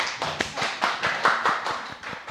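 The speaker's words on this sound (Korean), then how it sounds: "우리 늦게 오신 분 박수 한번 쳐주세요" A church congregation claps at a Bible school session, a steady round of brisk applause from a small group, close and continuous, with no talking.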